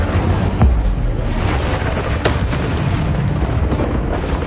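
Incendio fire spell cast in a PS4 video game: a sudden booming burst with sharp pops, then a dense, sustained roar that continues loudly to the end.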